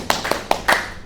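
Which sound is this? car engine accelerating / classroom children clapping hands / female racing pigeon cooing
classroom children clapping hands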